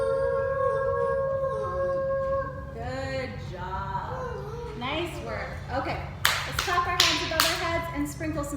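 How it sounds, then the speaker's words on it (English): Children in a kids' yoga class clapping their hands above their heads, a burst of several sharp claps near the end after sung and spoken instructions from an adult voice, with a low hum throughout. "One more time, clap your hands above your head."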